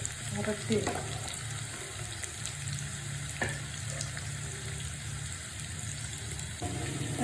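Ginger sautés in hot oil in a pan for pickle, a steady close sizzle and crackle with occasional stirring scrapes and brief clinks, and no talking.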